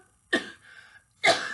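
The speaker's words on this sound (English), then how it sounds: "I've just been coughing a lot in pursuit of the right cough" A person coughs twice, with two sharp, loud hacking bursts separated by a short pause and a faint breathy sound between them, close to the listener, with no one speaking.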